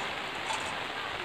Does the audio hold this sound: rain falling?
yes